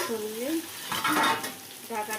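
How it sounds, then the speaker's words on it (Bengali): Taro flowers and shrimp frying in a pan, a close, steady sizzle with stirring, and a short stretch of talk at the start and end. "ভাজাটা কচু শাকের ভাজাটা হয়ে আসছে"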